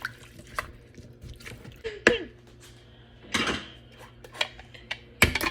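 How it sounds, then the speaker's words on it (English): Potatoes get stirred in a pot with a utensil, giving soft scraping and a few sharp clacks against the sides, quiet and irregular. "But let's stir this up."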